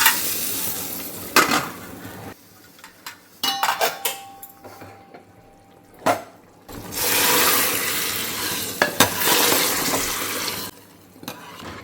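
Cumin seeds and asafoetida hitting hot oil for a tempering over dal, with bursts of loud crackling sizzle separated by quieter pauses and a few clinks of a pan or utensil.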